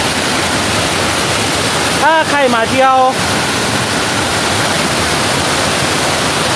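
Sap Sa Kaeo waterfall near Ban Khao Phloo, Bueng Sam Phan, a loud constant rush of falling water, with someone briefly speaking over it.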